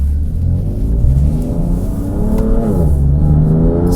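A BMW F80 M3 fitted with Bilstein B6 EDC adjustable dampers in comfort mode drives along, its engine rumbling steadily up close and rising and falling in pitch as it revs through the gears.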